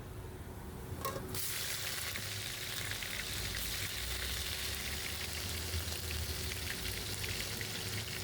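Browned onions frying as garlic ginger paste goes in for chana pulao: a soft clatter, then a loud, steady, close sizzle that holds unbroken to the end, with no voices.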